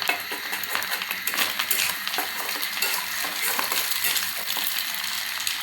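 Spices with turmeric powder frying lightly in a pan with oil, a steady close sizzle with scraping stir strokes and small clinks of the spoon against the pan throughout.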